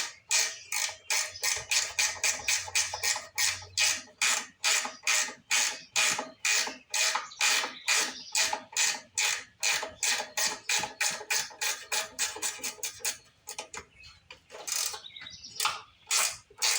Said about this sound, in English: Might have to use a wrench on these back tubes because that fuel tank stands in the way.